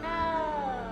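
A cat in the video game Hogwarts Legacy gives a single loud, drawn-out meow that slides gradually downward in pitch, sounding close and clear with no talking.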